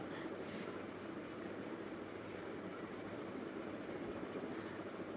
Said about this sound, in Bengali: ঠিক এই মুহূর্তেই আগারগাঁও মেট্রো স্টেশনে ট্রেন ছেড়ে দিল।